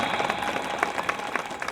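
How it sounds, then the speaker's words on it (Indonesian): An audience applauds children who have just recited the Quran at an Isra Miraj religious gathering. The clapping is brief and moderately faint, a dense patter of many hands from a crowd, heard on its own. "Tepuk tangan dong."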